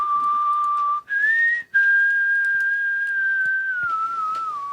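One person whistles a sustained, wavering tune close by, with two short breaks near the start.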